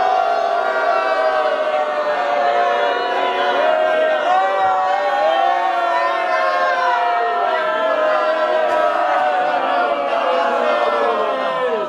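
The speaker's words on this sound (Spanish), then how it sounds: "que la probemos un fuerte abucheo" A storytelling festival audience boos loudly together: a sustained, rough wall of overlapping voices that keeps going without a break for about twelve seconds.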